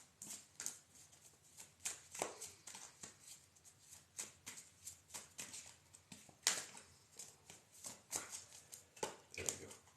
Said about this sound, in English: Shuffle this one a little bit more.